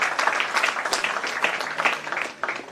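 An audience applauds with dense, sustained clapping, loud and lively throughout before easing slightly near the end.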